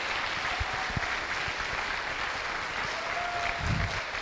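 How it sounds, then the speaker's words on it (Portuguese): A church congregation applauds its newly recognized deacons, a moderate wash of clapping from many hands with a few low thumps, fairly soft and continuous throughout. "Você pode aplaudir esses homens aqui,"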